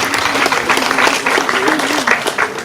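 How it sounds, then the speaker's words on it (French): Brief burst of audience clapping at a scholarship ceremony for orphans, lively and close, with a voice speaking over the applause. "ça s'applaudit s'il vous plaît, mesdames, messieurs"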